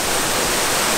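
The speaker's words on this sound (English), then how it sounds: "Waterfall is right there." Dense, steady roar of falling water from a waterfall in St Lucia jungle, loud and continuous like broadband rushing noise with no other sounds.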